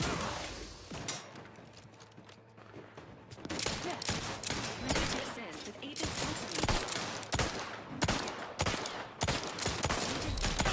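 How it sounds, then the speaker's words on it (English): Cowboy-style gunfire in The Outer Worlds 2 sounds as loud, rapid, closely spaced shots that keep going almost without a break, over a dense rumble of combat. "I like the cowboy shooting"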